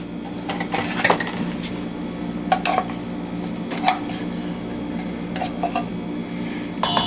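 A spatula scrapes and clinks against the inside of a can of cream of mushroom soup, giving scattered close metallic taps and scrapes over a steady background hum, with no talking.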